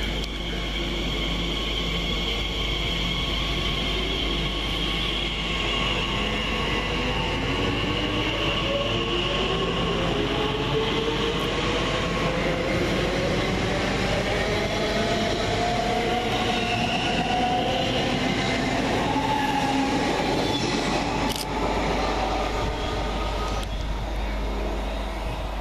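Class 345 TfL Rail electric train pulling out of Twyford station, a rising, gliding electric motor whine over steady wheel rumble and a deep low hum, loud and continuous with no talk.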